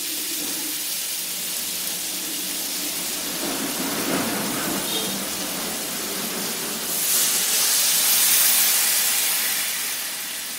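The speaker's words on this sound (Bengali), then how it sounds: "এখন এর মধ্যে জল দিয়ে দেব" Water is poured into a hot pan of drumstick and potato curry for a pure vegetarian mustard dish. A broad steady hiss runs throughout and swells into a louder steaming rush near the end, with no voices.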